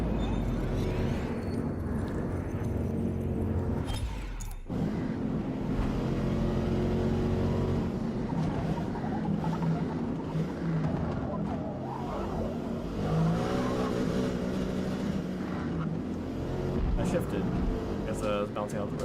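A race car engine in Forza Motorsport, played with a Fanatec wheel, holds a loud, steady high-rev drone that bounces off the rev limiter, broken by one brief dip partway through before it climbs again.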